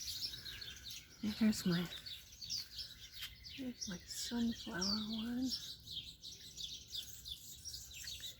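Birds chirp and tweet on a quiet Sunday morning outside a front yard, with bright twittering calls throughout and a few closer, fuller calls, while someone talks briefly over them.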